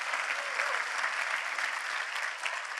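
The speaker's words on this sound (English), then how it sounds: "Can we give a round of applause for my man right here coming up?" Steady, dense applause from an audience at a sales training seminar, a continuous wash of many hands clapping at even loudness for a few seconds.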